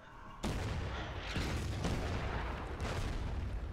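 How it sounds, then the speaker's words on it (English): Heavy enemy artillery in the war game Order of Battle: Pacific, set at the Battle of Bataan: a sudden loud boom followed by continuous rumbling barrages that swell in repeated waves, dense and close. "enemy artillery pounding hard."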